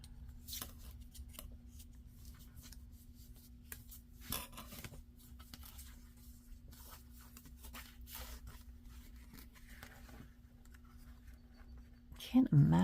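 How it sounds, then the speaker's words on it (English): Quiet, scattered snips and scrapes of scissors cutting through stiff card, irregular and close, over a low steady hum, ending in a louder rustle. "Thinking I can maybe cut that piece of cardstock out of there."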